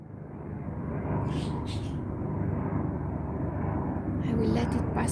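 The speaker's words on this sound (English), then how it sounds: "It's passing in the sky an airplane" An airplane drones overhead on a fall day, a low steady rumble that swells slightly as it passes, with faint voices in the background.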